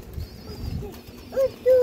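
A single female pigeon gives brief low coos near the end, close and clear, after a quieter stretch with a faint high whine in the background.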